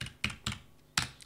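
A computer keyboard gives a few sparse, crisp keystrokes, quiet and alone with no one talking.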